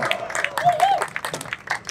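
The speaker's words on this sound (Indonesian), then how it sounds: "Tepuk tangan semuanya di belakang, tepuk tangan dong" A crowd at a Kamisan street protest in East Kalimantan claps in dense, uneven applause close by, mixed with shouts and voices.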